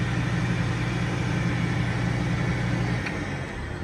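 A bucket truck's engine idles with a steady, loud, low drone, then settles lower near the end as the idle drops back to slow.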